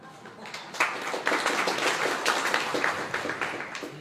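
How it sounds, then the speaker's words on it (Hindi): An audience at a Hindi-language religious sermon breaks into scattered, steady applause, a moderate crowd clapping with uneven rhythm that swells and dips over a few seconds, fairly close. "आप लोगों ने ताली बजा दी"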